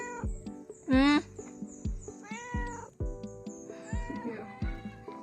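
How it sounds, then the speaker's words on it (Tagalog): Repeated meows rise and fall in a steady series, one sharp high cry near the start, with music-like tones playing underneath. "Meow, meow, meow, meow."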